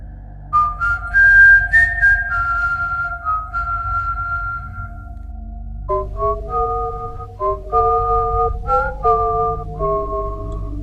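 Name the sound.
whistling a melody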